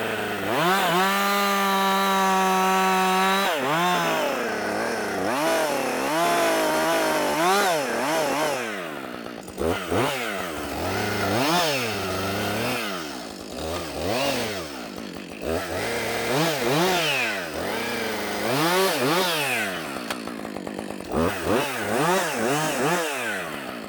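A chainsaw cuts into a fatwood snag, loud and close, its engine holding a steady high whine and then rising and falling again and again as it bites into the wood. No one speaks.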